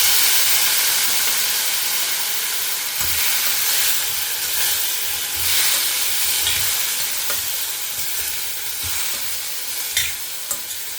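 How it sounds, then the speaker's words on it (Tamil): Pineapple goes into a hot pan that was just used for roasting, for pineapple gojju, and fries with a loud, steady hissing sizzle and steam, plus a few soft stirring knocks, close and with no talking. "இப்போ இந்த வறுத்துண்ட அதே வானலிலேயே நம்ம இப்போ பைனாப்பிள் ஆட் பண்ணிக்கலாம்."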